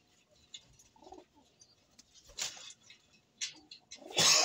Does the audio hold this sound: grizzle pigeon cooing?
yes